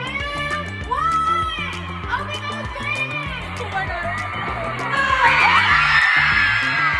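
During sorority rush week, a group of young women yells and chants in loud, continuous, overlapping voices that grow louder and shriller toward the end.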